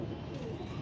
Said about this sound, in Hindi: वो कबूतर उसके पीछे गया था।